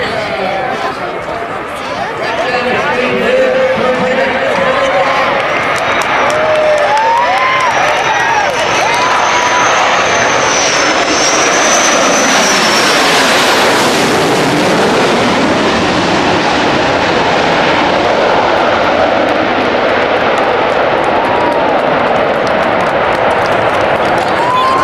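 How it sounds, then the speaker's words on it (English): An EA-6B Prowler jet passes overhead during a Fourth of July flyby, a loud roaring jet rumble swelling and washing over an outdoor crowd whose chatter and shouts continue throughout, the engine tone sweeping as it passes. "Here comes the airplane. Come on. Here comes the jet."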